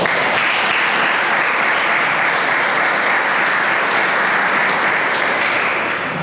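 A lecture audience breaks into steady, loud applause to welcome the speaker, with dense clapping holding evenly throughout and no voices over it.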